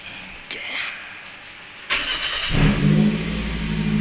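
A Perodua Kembara with the K3 engine cranks briefly, catches and starts, then revs up to a steady, loud idle close to the listener, with no voices.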